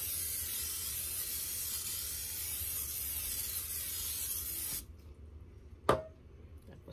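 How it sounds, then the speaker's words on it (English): A long, steady hiss of cooking spray onto a baking pan for several seconds, then stops, followed by a single sharp clack. "I gonna put some spray in the bottom."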